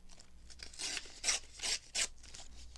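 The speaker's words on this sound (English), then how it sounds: "Let's tear this out and leave this on the bottom here maybe." Paper being torn out for a collage, several soft ripping strokes in a row, close and fairly quiet, with a faint low background hum.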